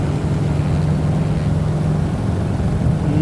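A Carenado Waco YMF5 biplane's radial engine drones in Microsoft Flight Simulator 2020, a steady loud low rumble with a constant hum, no voices over it.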